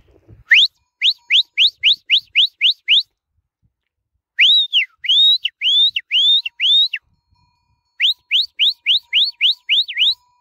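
Three bursts of rapid, piercing whistle chirps, each a quick rising-falling note repeated about eight times, sharp and close, the kind a shepherd uses to gather sheep.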